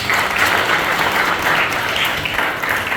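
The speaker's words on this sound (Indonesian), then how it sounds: "Tepuk tangan dulu untuk Tuhan Yesus." A church congregation applauds during an Easter sermon, steady dense clapping filling the whole stretch at even loudness with no talk over it.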